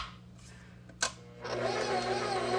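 Electric stand mixer fitted with a dough hook starts up after a sharp knock, its motor whirring steadily and close as pizza dough is mixed.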